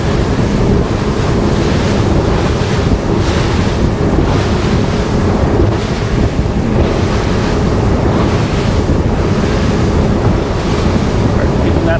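Regulator 34 boat running at speed through light chop, heard as a loud continuous rush of wind and water against the hull with steady engine roar underneath, no talking.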